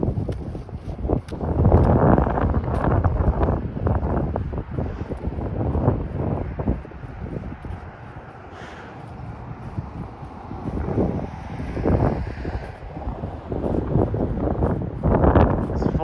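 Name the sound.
wind blowing into the microphone while walking outdoors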